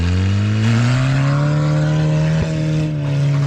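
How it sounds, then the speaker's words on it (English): A 1974 Datsun 620 pickup revs hard with a tire spinning, its loud engine note climbing steadily in pitch, briefly broken by a sharp click, then holding a high drone close by. "The other tire's spinning."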